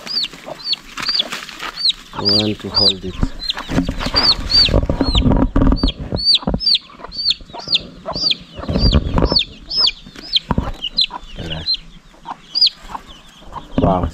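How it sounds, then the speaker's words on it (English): A chicken clucks and squawks repeatedly while being chased and caught outdoors, loud and close, with a few people talking over the commotion. "So one of our chicken, get out here, we want to hold it."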